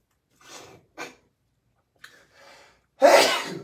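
A few quick sharp inhales build up, then one loud, close sneeze bursts out at the end.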